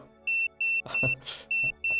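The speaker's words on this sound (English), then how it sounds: "We've got an alarm? What is going on? A low charge?" Low-charge warning alarm in Kerbal Space Program, a repeating high electronic beep in regular on-off pulses, with cockpit clunks and a brief whoosh breaking in midway.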